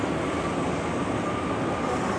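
A Singapore MRT train passes near Lakeside station as a continuous broad rumbling roar with a faint steady tone riding on top, loud and unbroken throughout.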